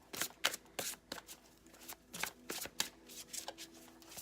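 Oracle cards shuffled by hand in a steady run of riffling, soft flutters and taps, close and clear with no talk over them.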